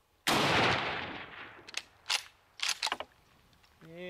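One loud Mosin rifle shot booms outdoors on a ranch and rings out slowly, followed by a series of sharp metallic bolt clicks, and a voice starts just at the end.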